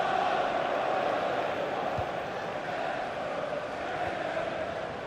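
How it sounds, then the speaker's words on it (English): A stadium crowd in the FIFA 15 football game, Arsenal versus Liverpool in the Premier League, keeps up a continuous broad roar and murmur of cheering, steady throughout with a faint dip midway. "the crowd really enjoying it"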